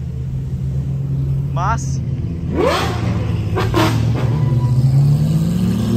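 A Brazilian car's exhaust gives a deep, loud rumble that swells into a revving burst and then settles back to a steady idle, heard close up while someone talks excitedly over it.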